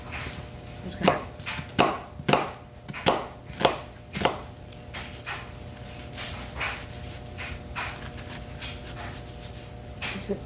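A knife chops onion on a cutting board for a small batch of corn and tomato salsa, a quick run of about eight sharp, close knocks in the first few seconds, then softer scattered taps.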